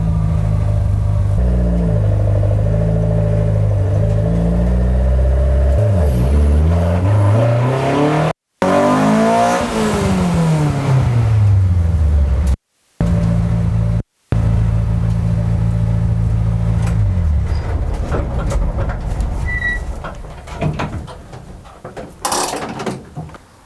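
A BMW E36 with a swapped M42/M44 four-cylinder and electric power steering revs hard through repeated climbs and drops in pitch, loud and close, with a few abrupt cuts before the engine settles into lighter revs near the end.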